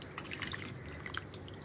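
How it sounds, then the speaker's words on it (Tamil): Pasta cooking water pours and drips steadily through a strainer, a soft continuous trickle with scattered droplet splashes, fairly quiet and close. "இப்போ இந்த தண்ணியை வடிகட்டி எடுத்து வச்சுக்கணும்."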